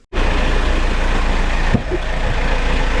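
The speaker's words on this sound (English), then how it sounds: "the engine is running" A vehicle engine cuts in abruptly and runs at a loud, steady, close-up idle, with a single dull knock partway through the continuous rumble.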